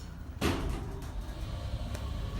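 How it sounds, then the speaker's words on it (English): An Otis hydraulic elevator door in an office park building slides shut with a sudden close thump, followed by a steady mechanical rumble that carries on to the end. "Door close works, I like that."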